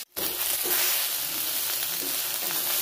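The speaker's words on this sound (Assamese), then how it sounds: "এতিয়া মাছ ভাজি কৰি আছোঁ।" Fish frying crisp in a pan, a dense, steady hiss of sizzling oil that starts abruptly and continues evenly, close and without talk.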